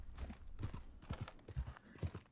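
Horse hooves clopping across ice in Red Dead Redemption II, a close run of uneven, stumbling beats with a brief whinny-like tone, no voices.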